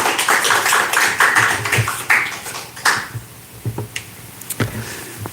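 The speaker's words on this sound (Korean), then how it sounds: "박수로 모시도록 하겠습니다" A church congregation claps to welcome a guest professor coming up to preach, a dense burst of applause that thins out into scattered individual claps.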